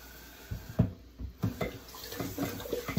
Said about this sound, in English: I'm gonna rinse that salt out of there.